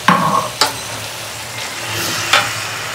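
Stir-fried egg chicken Hakka noodles with capsicum sizzle in a hot pan, with a few sharp bursts of sizzling as vinegar splashes in, under a steady background hiss.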